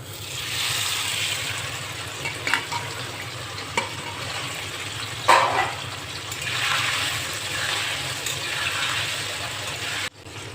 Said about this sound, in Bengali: এবার পনিরটা আমি ভেজে নেব।